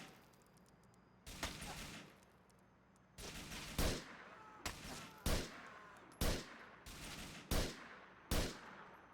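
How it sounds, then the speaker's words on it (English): Gunfire from a shootout in the video game Grand Theft Auto IV: about eight sharp, loud shots in an irregular sequence, some in quick pairs, each with a short decaying tail, over a low background hum. "I'll keep shooting these guys."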